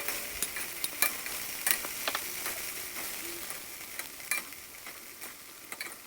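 Beef sizzles and browns in a pot with a steady, bright crackle, while a utensil scrapes and stirs in brief, repeated strokes.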